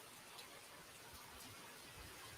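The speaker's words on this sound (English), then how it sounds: "It is pouring, you guys." Heavy thunderstorm downpour, a steady broadband hiss of rain pouring down with scattered drop patter, moderately faint and continuous with no voices.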